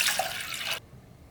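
Water poured into an ultrasonic cleaner tank during a vintage Abercrombie & Fitch Super Shipmate watch restoration, a steady close splashing pour that stops abruptly.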